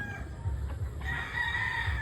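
Gamefowl chickens crowing on a game farm, with several overlapping crows and clucks at moderate distance over steady low rumble and farmyard background.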